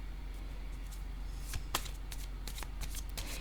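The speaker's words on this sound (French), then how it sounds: "je vais piger une autre carte ici" A card drawn from a deck, heard as a few light papery flicks and slides, faint and close, with no voices.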